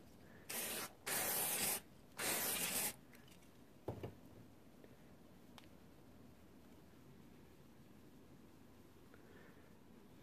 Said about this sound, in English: And then using the miter fast spray,